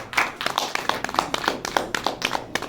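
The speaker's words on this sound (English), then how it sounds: "Round of applause for Charles" Audience clapping at a cycling criterium press event, a modest group of distinct, fairly close handclaps in an uneven rhythm, brief and moderately loud.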